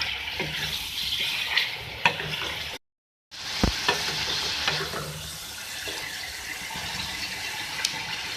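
Chicken pieces frying in a pan with a loud, continuous hissing sizzle, a few spatula scrapes and clicks, and a brief total dropout partway through.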